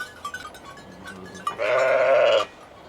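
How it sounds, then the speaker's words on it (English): A single sheep bleats loudly and close by, a strained wavering call lasting about a second, following a few quieter scattered sounds. "The sheep, if you're a sheep person, then the sheep will be like this."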